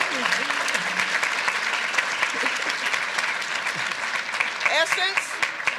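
An audience applauds a community sponsor at an art talk on Romare Bearden, a steady wash of clapping from a sizeable crowd, fairly distant, with a voice and a brief whoop rising through it near the end.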